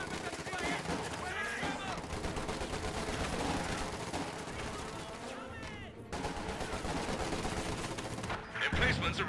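Infantry support guns fire repeatedly against a mortar position in the World War II strategy game Company of Heroes 2, steady peppering shots over a busy battle din with distant explosions, mixed with game effects.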